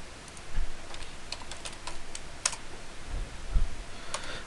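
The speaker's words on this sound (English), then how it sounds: "Type in B-L-O-C-K." Computer keyboard typing during a CAD drafting session, a quick run of separate keystroke clicks spread across the stretch, close and moderately loud with no talking.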